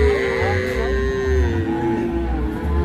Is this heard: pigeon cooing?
no